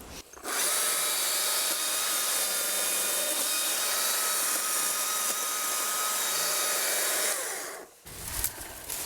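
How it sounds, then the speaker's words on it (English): A chainsaw runs at a steady high whine for about seven seconds, then drops off abruptly, leaving some quieter rustling. "on with the chainsaw"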